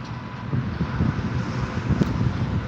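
Wind buffets a handheld microphone outdoors during a morning walk, a continuous low rumbling roar that swells and dips irregularly, loud and close, with no voices.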